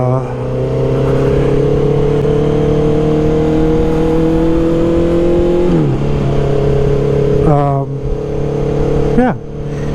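A Honda CB650R motorcycle engine drones loudly at a steady pitch while being ridden, then dips and rises again through several quick shifts near the end, close to the rider.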